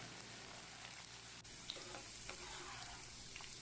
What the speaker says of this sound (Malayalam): ഇതെല്ലാം കൂടെ നമുക്ക് വറുത്തു കോരി മാറ്റി വയ്ക്കാം